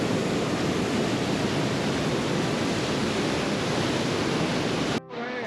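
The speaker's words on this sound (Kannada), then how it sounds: "ಮಾನ ಗ್ರಾಮದ ಸಮೀಪ ಪರ್ವತಗಳ ಹೃದಯದಿಂದ ಹೊರಹೊಮ್ಮುವ ಸರಸ್ವತಿ ತನ್ನ ಉಗ್ರ ಹರಿವಿನ ಮೂಲಕ ಪ್ರಕೃತಿಯ ಅದ್ಭುತ ಶಕ್ತಿಯನ್ನು ಪ್ರದರ್ಶಿಸುತ್ತದೆ" The Saraswati river near Mana village, a fierce mountain torrent, roars as a loud, unbroken rush of water filling the whole scene, ending abruptly with a short quieter tail.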